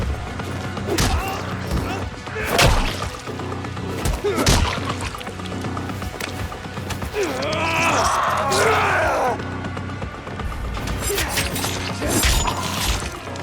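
Melee weapon takedown attacks in Dying Light 2, a run of heavy thuds, whacks and crunching impacts with grunts and yells, punctuated by bursts of combat noise at close range.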